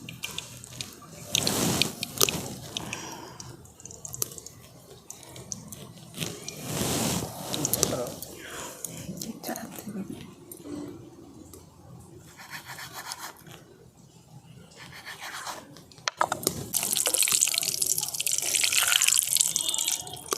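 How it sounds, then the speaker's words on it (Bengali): Flour dough for soft fried bread dropped into hot oil, a crackling, bubbling fry that swells and fades with a burst of sizzle near the end, under someone speaking. "এইরকম অবস্থাতেই আমি তেলের মধ্যে দিয়ে দিচ্ছি"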